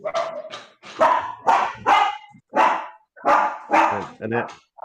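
A man imitates a dog, giving a series of about eight rhythmic, loud vocal barks and yips close up, each a short burst separated by brief pauses.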